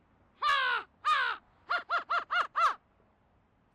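A person mimics an American crow, giving two longer caws followed by a rapid run of five shorter, clipped caws, loud and close with no other voices.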